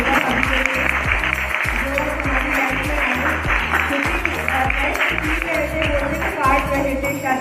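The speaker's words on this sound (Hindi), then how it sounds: "आप सब लोग उनके लिए ताली बजा सकते हैं" Steady, dense applause from a crowd fills the whole stretch at a loud, even level, with music or voices running beneath the clapping.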